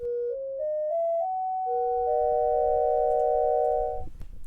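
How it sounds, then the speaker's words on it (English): Pure synthetic sine-wave tones step upward in pitch one after another, then several frequencies sound together as a sustained chord, loud and clean before fading out. "these tones sound very synthetic"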